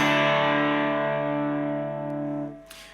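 One jangly electric guitar chord rings out on open strings in jangle-pop style, bright and slowly decaying for over two seconds before being cut off, close and without speech.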